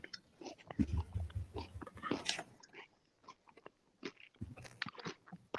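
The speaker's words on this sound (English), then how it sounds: "Can you hear me chewing?" Close, irregular chewing and crunching of food with soft bites and pauses, quiet and intimate, with faint mouth noises between.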